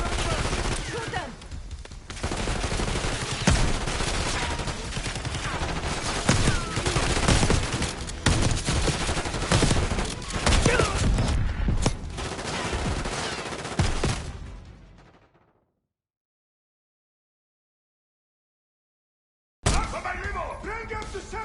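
Dense, sustained gunfire from the game Call of Duty: Black Ops 6, rapid shots and bursts layered with shouting for about fifteen seconds, then a few seconds of silence before the firefight resumes.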